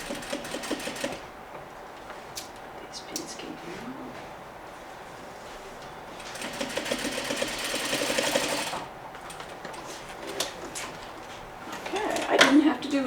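A sewing machine stitches a seam on a chair slip cover in several bursts of rapid, whirring mechanical clatter at close range, broken by pauses with handling noises and someone talking.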